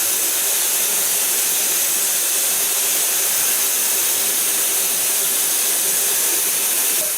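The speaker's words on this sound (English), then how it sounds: "Putting on this beautiful blow dryer." A blow dryer used while styling freshly bleached, pink-dyed hair runs as a continuous loud airy hiss with a steady motor whine, alone without talk.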